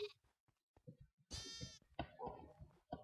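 A sheep in a video game bleats in one loud, wavering cry, with short clicks and game sounds before and after it.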